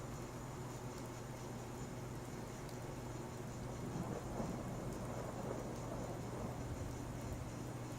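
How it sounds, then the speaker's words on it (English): Steady rain with low thunder rumbling in the video game Fallout, a continuous wash of downpour noise heard alone at a moderate level throughout. "I see rain coming in through the skylight"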